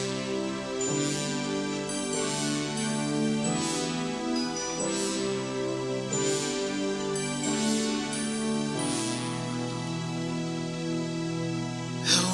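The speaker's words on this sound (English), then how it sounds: "let's hop into the intro, just the synths. There's some bells and some brass going on here." The intro of a worship song plays with layered synth pads, chiming bells and brass swells. The chords are sustained, with periodic bright bell accents, at moderate volume and without talk.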